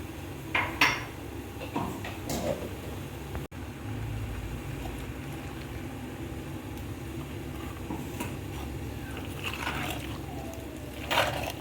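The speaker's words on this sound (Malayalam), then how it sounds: "ഇതിലേക്ക് അല്പം വെള്ളം ചേർത്തിട്ടും കൂടെ നമുക്കിതൊന്ന് കുലുക്കിയെടുക്കാം" A pot of sardine curry with Chinese potato, ground coconut and water is shaken on the stove, giving a few sharp metallic clanks and scrapes over a steady low bubbling rumble.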